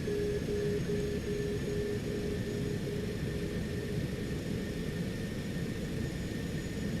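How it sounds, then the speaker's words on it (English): Outer marker beacon tone sounding in a Citation X flight simulator on approach, a steady beeping tone in the first few seconds over a constant loud cockpit engine rumble. "There's the outer marker, by the way, that's what the noise was."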